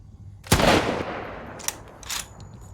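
Gunfire in the zombie first-person shooter Undead City: one loud close shot near the start with a long decaying tail, then two quicker, fainter shots later, with no voices.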